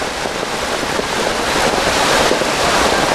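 Heavy monsoon rain pours near Devkund Waterfall, a dense, steady broadband wash like surf, loud and continuous with no voices.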